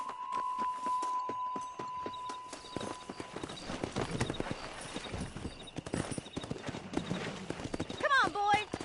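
Horse hooves clip-clopping at a steady ridden pace in Red Dead Redemption, close and clear throughout, with speech heard over them and a brief whinny near the end.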